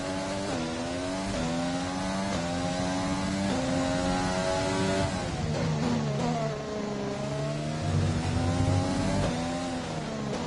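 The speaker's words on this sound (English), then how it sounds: "then you can hear the cars" Several F1 2020 racing cars at the Russian Grand Prix drive past in a game, their high-pitched engines rising and falling through gear changes in continuous, loud overlapping whines, with no talk.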